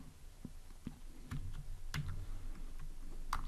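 Keys tapped on a computer keyboard while coding an Android SeekBar app, a sparse, irregular run of soft clicks over a steady low background hum.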